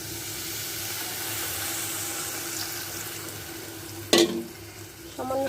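Spiced chicken seasoned with chili, coriander powder and salt sizzles steadily in a pan, and a sudden sharp hiss flares up near the end as a little water hits the hot surface.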